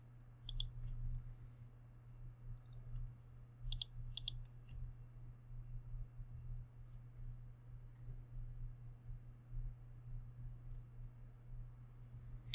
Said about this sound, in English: If I click on substances and in the search box typing the name of a substance